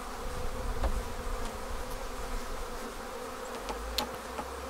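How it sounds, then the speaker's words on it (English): Honeybees buzz steadily around a black plastic hive frame, a soft continuous drone with a few louder passes close by, and no voices. "Lots of bees just hanging out there."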